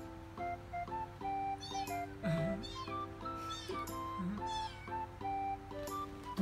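A kitten's meows play back from a video, a run of thin, high, repeated calls at low volume over a faint steady hum.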